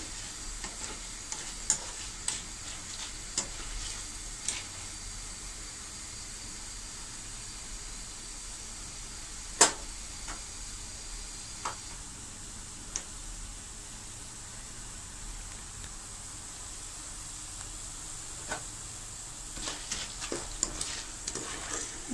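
Burinda dough pieces fry in hot oil with a steady, soft sizzle, broken by occasional pops and a stir or two, heard alone at moderate distance.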